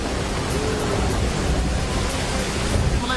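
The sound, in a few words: heavy monsoon rain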